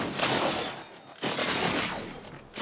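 Close, loud bursts of gunfire during a Fortnite fight, two dense volleys separated by a short gap, with another starting at the very end.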